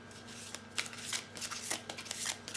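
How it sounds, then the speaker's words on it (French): Oracle cards of the Archangel Michael deck being shuffled and drawn by hand, a run of soft papery riffles and flicks in uneven bursts, close and moderately quiet with no talk. "je vais tirer une carte de l'archange Michael"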